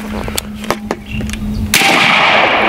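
Bin Tac S45 PCP air rifle with a high-capacity magazine firing, a few sharp cracks near the microphone followed by a loud hissing burst of air that holds steady.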